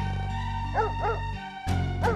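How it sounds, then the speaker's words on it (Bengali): A cartoon dog barks at night: a few short, sharp barks in two bursts, clearly heard over a steady musical background. "কুকুরটা আবার ঘেউ ঘেউ করছে কেন?"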